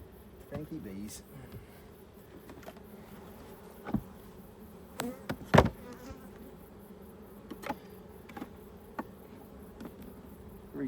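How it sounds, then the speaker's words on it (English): Honey bees around an opened long Langstroth hive in summer, a faint steady buzz with individual bees zipping past the microphone, plus occasional knocks and handling sounds from the hive work. "Cranky bees."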